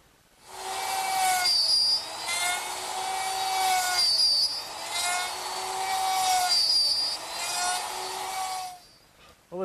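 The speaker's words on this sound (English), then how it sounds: "cut the pins with the router" Router cutting the pins of a wooden chair table in a workshop, three long sustained whining passes with steady harmonic tones, each dropping briefly between cuts, loud and close with no talking.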